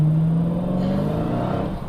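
Dodge Challenger Hellcat V8 idling with a deep, steady burble and a low rev blip that settles back down, close and fairly quiet.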